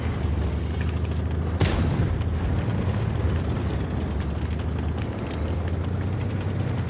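A deep cannon boom from the tank AC Taygete in a game cracks out once over a constant low engine rumble, with a fainter thump just before it.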